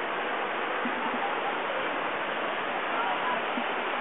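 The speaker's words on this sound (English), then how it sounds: "A nice little creek." Steady rushing water from a small creek on the trail between Multnomah Falls and Wahkeena Falls, a continuous broadband flow with no breaks, fairly close and unchanging throughout.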